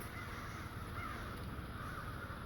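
Many crows calling in a park at sunset, a faint, distant din of overlapping caws blending into a steady background murmur.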